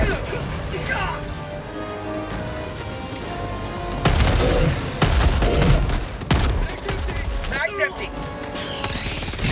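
Bursts of rapid gunfire and crashing impacts in the Helldivers 2 combat game, loud and dense with sharp volleys near four to six seconds, under shouted voices.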